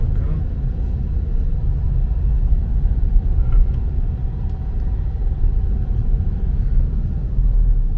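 Steady low rumble of a car driving on a road near a rural market in Odesa region, a continuous close engine and road drone lasting throughout with no clear voices.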